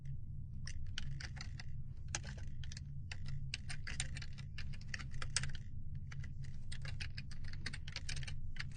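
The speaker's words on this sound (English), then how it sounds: "Type in the service account" Rapid clicking on a computer keyboard, near and fairly quiet, in bursts of keystrokes with short pauses over a constant low hum, no voices.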